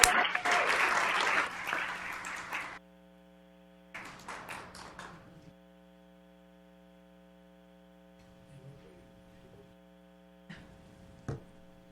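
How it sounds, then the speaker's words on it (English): A governing board meeting audience applauding, a burst of clapping for about three seconds, then a shorter smattering, and a few scattered claps over a steady electrical hum. "Well, I guess we can clap for Principal DeTore"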